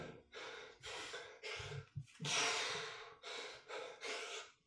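Heavy, rhythmic breathing from someone mid-workout with dumbbells, a string of loud, close, forceful exhales and gasping inhales, with no speech.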